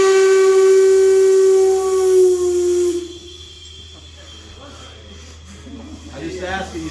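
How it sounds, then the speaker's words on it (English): The original shop steam whistle at the East Broad Top Railroad shop blows one loud, sustained harmonic blast for about three seconds, then cuts off, leaving a hissing steam and machinery background. "we have the original shop whistle"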